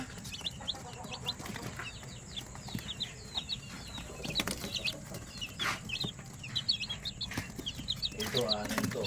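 Small young chicks feed and peck, with soft chirps, cheeps and clucking over a busy background of light tapping and rustling, fairly quiet and continuous throughout.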